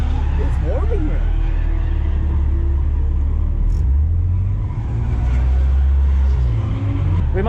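A BMW E36 328ti Compact lapping a track, its engine a steady low in-cabin drone with shifting pitch. Occupants talk over it throughout.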